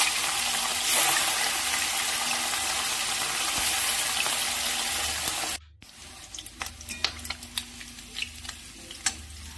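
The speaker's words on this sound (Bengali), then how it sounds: "মাছগুলো একসাথেই ভেজে নিচ্ছি। খুব কড়া করে ভাজবো না আমি।" Tangra catfish frying together in a pan of oil give a loud, steady sizzle for about five seconds. Then it drops to a quieter, crackling fry with scattered pops.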